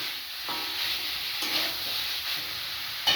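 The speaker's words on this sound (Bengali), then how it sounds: "কিছুক্ষণ কষানোর পর এরপর ভাজা মাংসগুলো দিয়ে দিচ্ছি ওর মধ্যে।" Fried chicken pieces and onions stir-fried together in a pan for chicken biryani, giving a steady close sizzle with soft scraping stirs throughout.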